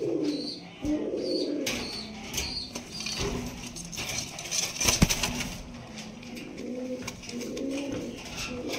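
White fillback pigeons coo steadily at a pigeon farm, soft repeated throaty coos overlapping with a few faint chirps and light background rustling.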